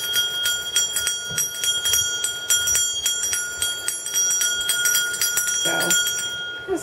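Stainless steel bird toy bell with a clapper on a chain, ringing in a quick steady series of bright metallic strikes with sustained high overtones, close and clear.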